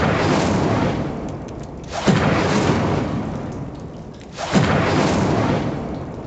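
An Incendio fire spell goes off in a fantasy magic game, three heavy booming bursts a couple of seconds apart, each with a rumbling, crackling tail that fades before the next.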